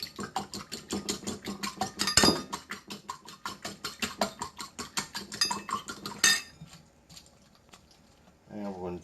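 A fork rapidly beats two eggs in a bowl for fried matzah, making a fast, even run of close clinking taps that stops abruptly, with a voice speaking at times.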